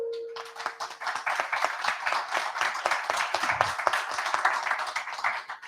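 Audience at a talk on domestic violence against women applauds for a guest doctor, a steady round of dense, moderately loud clapping lasting several seconds after a brief tone at the start.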